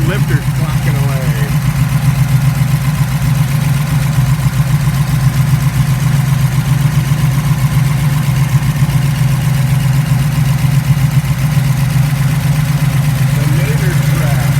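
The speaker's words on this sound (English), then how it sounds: "You can hear the solid lifters clocking away." A Camaro SS/RS with a 396 L89 engine and solid lifters idles loud and close, holding a steady low rumble with a fine mechanical ticking throughout, while a voice talks over it.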